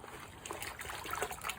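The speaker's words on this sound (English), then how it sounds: "push the water through, squeeze, squeeze, push the water through" Water is squeezed through a bag of compost to make compost extract, making faint, uneven trickling and small splashes that swell as the bag is pressed, with no talking.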